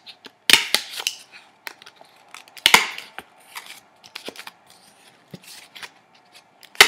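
Sharp clicks and snips of a hole puncher punching holes around a paper plate for a dream catcher craft, a few louder bursts amid scattered lighter clicks, close and alone.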